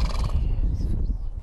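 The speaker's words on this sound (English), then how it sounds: "the horses are on the property over on this hill over here" A neglected young horse on a hillside property gives a short whinny over a low background rumble, fairly near and moderately loud, with no speech.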